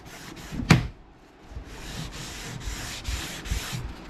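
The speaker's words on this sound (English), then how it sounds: "Rubbing alcohol, put it on a rag, cleans right off." A rag damp with rubbing alcohol is rubbed back and forth over a storage box installed on a Pond Prowler 10 boat, giving repeated scrubbing swishes close by after one sharp knock near the start.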